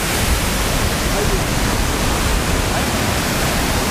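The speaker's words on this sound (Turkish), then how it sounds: "Maden Deresi'ndeki şelaleye geldik." The waterfall on Maden Deresi near Karasu rushes in a loud, steady roar of falling water, a dense unbroken wash of noise heard up close.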